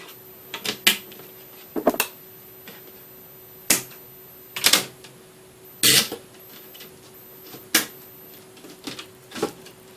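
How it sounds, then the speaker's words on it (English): Plastic zip ties ratcheted tight around a Dollar Tree pegboard assembly, giving a series of sharp, quick clicking zips in short bursts with pauses between them, close and fairly quiet, with no talk. "we're just going to zip tie these nice and tight"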